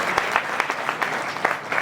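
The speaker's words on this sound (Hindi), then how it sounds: "सैनिकों के सम्मान में जोरदार तालियां बजाएं" Audience at a poetry recital claps in honour of soldiers, a sparse, uneven run of individual hand claps rather than a dense ovation, fairly close and without speech.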